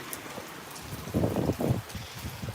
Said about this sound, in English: I'm going outside because this is as light as the rain is gonna get.